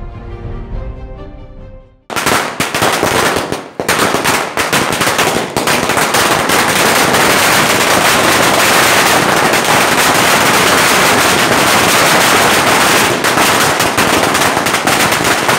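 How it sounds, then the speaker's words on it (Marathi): Celebratory firecrackers set off by party workers in Alkuti, Parner taluka, a quiet tone giving way to a loud, dense and relentless crackle of rapid bangs that runs on without a break. "अळकुटी आणि परिसरातील कार्यकर्त्यांनी फटाके वाजवून जल्लोष साजरा केला।"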